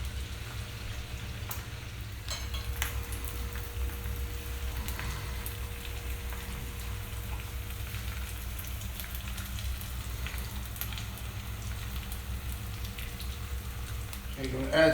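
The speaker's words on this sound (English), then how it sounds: "I have onions and green peppers. Put in there first to saute." Onions and green peppers sauté in a hot pan for turkey and potato goulash, a steady soft crackling sizzle running unbroken throughout at low volume, with faint occasional clicks and no speech.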